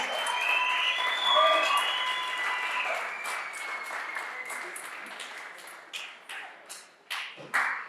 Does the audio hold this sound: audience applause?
yes